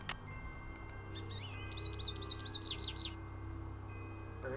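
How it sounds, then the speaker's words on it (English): An American goldfinch calls in the Nancy Drew game Ghost Dogs of Moon Lake, a quick series of bright, high chirps repeated about eight times, fairly clear over a low steady background hum. "You got the American goldfinch."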